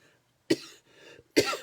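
Two separate coughs from a person with draining sinuses, close and fairly loud, with a short pause between them and quiet around them.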